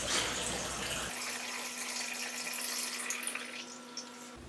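Film developing chemical pours back into its container as a close, steady trickle and splash of liquid, trailing off after a few seconds.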